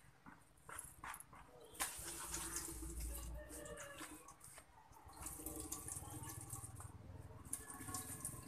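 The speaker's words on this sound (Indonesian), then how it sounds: "Kemudian ini akan kita peras sampai airnya itu mengering." Grated cassava squeezed in a cloth napkin, water trickling and dripping out in uneven, faint spurts with soft wet squelches, close and quiet.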